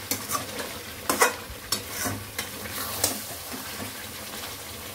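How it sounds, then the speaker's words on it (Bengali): Meat for biryani being stir-fried in released oil, a close crackling sizzle broken by repeated scraping and clanking stirs against the pot at an uneven rhythm. "আমার এই যে মাংসটা এদিকে কষানো চলছে, এই যে তেল অলরেডি ছেড়ে দিয়েছে"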